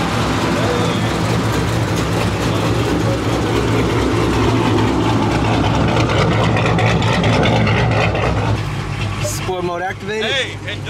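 A Dodge Hellcat's engine idles with a loud, deep, steady rumble that fills the whole stretch, while voices talk over it near the end.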